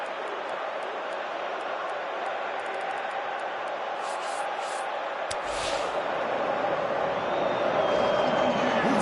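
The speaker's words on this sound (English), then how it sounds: "you can hear how the crowd are reacting to this too" A football stadium crowd roars steadily after a near miss. The broad, continuous roar swells slightly toward the end, with match commentary talking over it.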